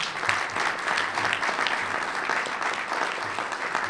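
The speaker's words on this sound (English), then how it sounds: "Now applause." An awards-ceremony audience at the 2011 Lewis Hine Awards applauds steadily, a dense, even wash of clapping that holds at a constant level for about four seconds with no voices over it.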